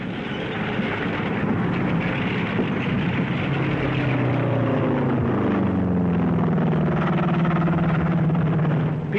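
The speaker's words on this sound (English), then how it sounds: "P-38s move ahead of the advancing forces" P-38 fighter aircraft flying over advancing forces in North Africa in 1943, a loud, continuous propeller-engine drone whose pitch sweeps downward as the planes pass, with no voices.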